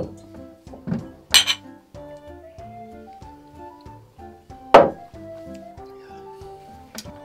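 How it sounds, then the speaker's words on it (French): Wine glasses clink together in a toast inside a wine cellar, several sharp chimes scattered among softer knocks and rattles of glassware, fairly close and loud with little talk. "Je suis là, vous trinquez."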